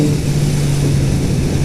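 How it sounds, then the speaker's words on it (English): Kawasaki Z900RS motorcycle engine rolling on from about 2,500 RPM at 45 mph, intake opening up as it accelerates; a steady, loud engine drone with a strong low hum holds throughout with no pauses. "You hear the intake open up and just starts moving."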